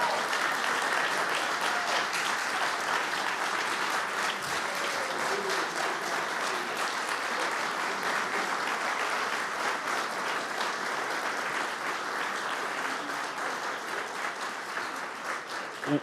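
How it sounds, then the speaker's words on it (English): A large audience at an alumni awards ceremony claps steadily and loudly for the whole stretch, a sustained round of applause for the winners that tapers only slightly near the end. "Let's give one more round of applause to all of this year's winners."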